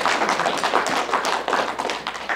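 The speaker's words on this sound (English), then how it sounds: "Give us a round of applause" Applause from a crowd at a live community event: a dense, even patter of many hands clapping, moderately loud, throughout.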